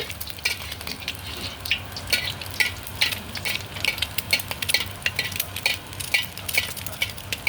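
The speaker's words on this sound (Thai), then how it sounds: "ไข่ดาว" Eggs frying in hot oil in a pan, a dense crackling sizzle with rapid pops and spatters throughout, close and fairly loud, with no talking.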